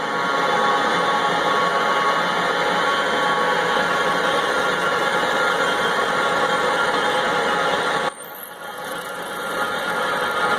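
A Moore #3 jig borer drills with down feed engaged, giving a steady mechanical hum and whine with constant vibration, loud and close. The tone shifts abruptly near the end as the load changes.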